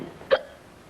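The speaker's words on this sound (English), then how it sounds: "Do you have the hiccups?" A single sharp hiccup breaks a quiet moment in an English-class dialogue scene, close and brief, with nothing else around it.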